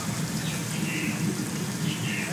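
Artificial rain from a sprinkler system on a film and TV studio set pours down in a steady, dense hiss of falling water, continuous and close, with no talk.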